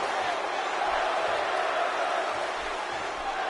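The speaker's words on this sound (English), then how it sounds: "This crowd is just about down the middle, just chanting "Kill Owens, kill."" A large wrestling crowd in Uniondale chants at a match, a dense, steady roar of many voices at even loudness, heard from a distance with no clear words.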